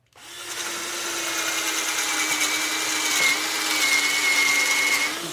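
A 3/8 electric drill bores a hole into the middle of a wooden post, spinning up quickly into a steady, loud whine with a grinding tone that holds for about five seconds, with no speech.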